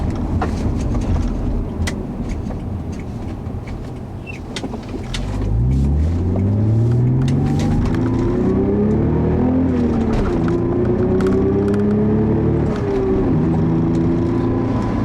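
A 1994 Acura Legend six-speed manual sedan drives, its engine droning low at first, then rising clearly through the revs with audible gear changes and a steady road roar, close and loud throughout.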